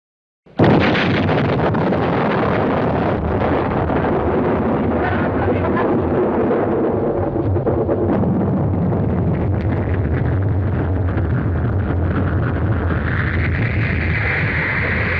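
A massive explosion blast follows a launch countdown, erupting suddenly into a loud, sustained broadband roar that rumbles on steadily for the whole stretch, with a higher whine emerging near the end.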